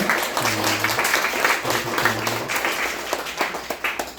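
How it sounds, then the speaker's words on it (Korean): A church congregation at a Sunday service claps to welcome a visiting family, a moderate patter of applause with a low hum in the background that fades into a few scattered claps. "우리 박수로 환영해 주시기 바랍니다"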